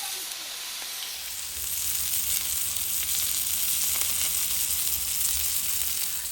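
Steak sizzles loudly on a Blackstone griddle after being flipped, a steady close frying hiss that swells slightly after the first second and then holds, with no talking.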